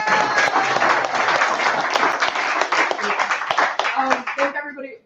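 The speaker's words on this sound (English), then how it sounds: "I just want to get one more round of applause for everybody who came out on their Friday night" Audience at a political meeting on a Friday night applauding, a dense burst of clapping from a roomful of people that tapers off near the end, with voices mixed in.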